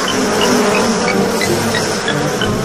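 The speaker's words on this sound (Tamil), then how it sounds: "ஹாய் குட்டி தேனீக்கள்." Bees in a Tamil children's cartoon make a steady, dense buzzing drone that fills the whole stretch without pause, close and loud, with no voices over it.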